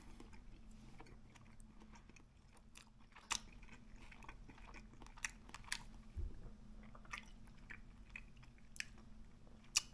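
Someone chews a sausage topped with Mayochup sauce, producing close, moist bites and crunchy chewing clicks in an irregular rhythm over a quiet room hum, with no talking.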